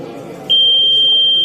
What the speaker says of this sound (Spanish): que como ve ya está tocando y la alarma suena